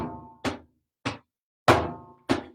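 A hand drum is struck alone in an accented three-note pattern, one loud stroke followed by two softer ones. Five sharp, close hits are separated by short silent gaps.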